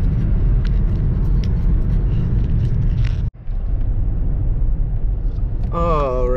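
A car drives along, heard from the cabin as a steady low road and engine rumble that briefly cuts out partway through, with a short burst of talking right at the end.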